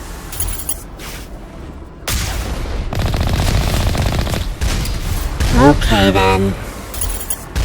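Turrets fire in the video game Mass Effect, rapid bursts of gunfire and booming impacts with electronic whines, loud and dense, while someone speaks briefly over the game sound.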